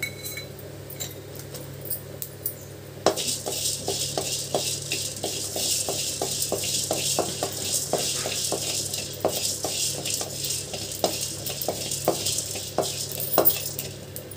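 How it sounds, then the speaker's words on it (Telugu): Coriander seeds dry roasting in a pan, a continuous dry rattling hiss with steady rapid ticks of a spoon stirring the seeds against the metal, close and with no talking. "వేయించుకుందాం ఇప్పుడు ఇవన్నీ. చూడండి, ముందు ధనియాలు వేస్తానండి."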